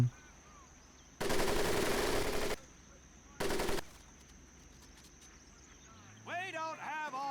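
Machine gun fire in the World War II shooter Medal of Honor Pacific Assault, two loud sustained bursts separated by a pause over a low background hum, followed by a voice calling out at the end.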